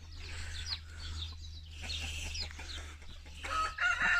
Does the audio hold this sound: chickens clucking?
yes